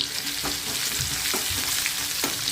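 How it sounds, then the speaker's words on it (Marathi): Crushed garlic fries in oil over low heat in a pan for Marathi kardi greens, giving a steady close sizzle with a few soft stirring scrapes and no voices. "लसूणही आपल्याला तेलामध्ये परतून घ्यायचं आहे व्यवस्थित"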